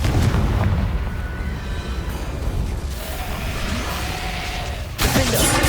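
A Confringo fire spell erupts in the wizarding game Hogwarts Legacy. A loud, booming blast with a rolling tail is followed by another sharp burst a few seconds later.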